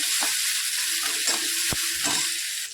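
Chili thecha paste stirred and sautéed in oil in a pan gives a continuous close sizzle, with occasional soft scraping knocks from the spoon.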